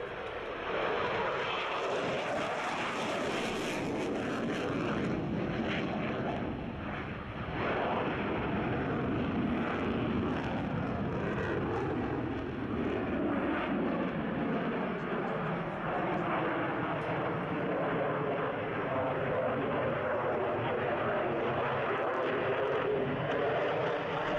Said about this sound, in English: It's now Lockheed Martin F-16AM Fighting Falcon.